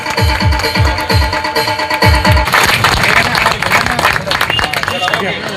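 A crowd applauds to welcome a guest at a lively Annabhau Sathe birth anniversary celebration. Loud rhythmic clapping swells into dense, sustained applause with crowd noise and voices mixed in.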